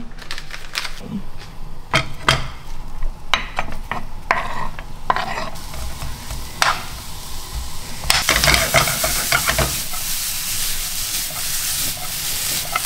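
Butter frying in a pan while quiche is being made, a continuous sizzle that grows louder partway through, with rapid clicking scrapes of a utensil against the pan, close up.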